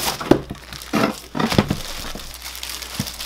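A thin plastic bag, almost like very thin rubber, crinkles and rustles as it is handled, with a few sharp crumpling bursts followed by softer, quieter rustling up close.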